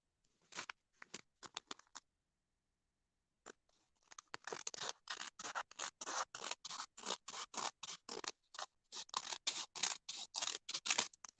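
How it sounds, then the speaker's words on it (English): Scissors cut through paper at close range: a few scattered snips, a brief pause, then a long, steady run of rapid crisp cuts with no talking. "Take my scissors."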